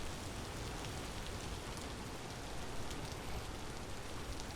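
Steady rain pours during a storm in the Vintage Story video game, a dense constant patter and hiss with no breaks or talking, holding an even level throughout.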